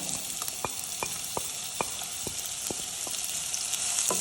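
Chopped onions sautéing in hot coconut oil give a steady, close frying sizzle with a spoon clinking against the pan now and then, all without voices, while preparing egg curry.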